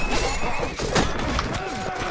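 A horse whinnies in Mount & Blade: Warband, a loud high neigh over clip-clop hooves, with someone talking over the sound.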